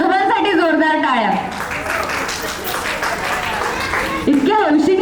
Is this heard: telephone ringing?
no